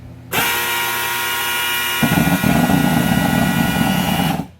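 A KCM-3000S power smoke fogger starts up on a long press of the start button and runs with a loud, steady, buzzy engine drone. The pitch roughens and deepens about halfway through before it cuts off abruptly. The unit has an initial knocking fault.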